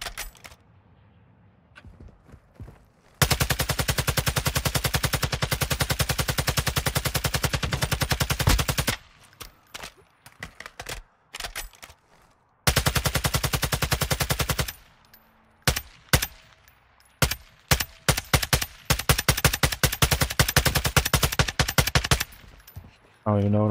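Sustained automatic gunfire from a Call of Duty DMZ match, long loud bursts of rapid shots broken by short pauses, then scattered single shots and shorter volleys toward the end.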